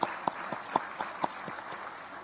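Sparse, distinct handclaps at an inter-parliamentary assembly in Kigali, Rwanda, roughly evenly spaced and fairly faint, like a small scattered round of applause.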